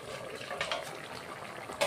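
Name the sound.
mustard fish curry (shorshe bata) boiling in pan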